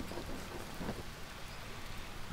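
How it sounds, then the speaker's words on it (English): Steady rain in the survival video game Green Hell, a dense continuous patter and hiss that fills the scene evenly with no talk over it. "since it's raining."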